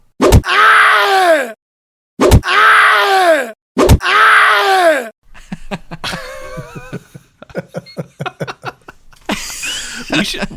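A played scream sound effect: three loud, drawn-out anguished screams, each cut off abruptly, followed by a choppy stretch of clicks, tones and brief vocal fragments.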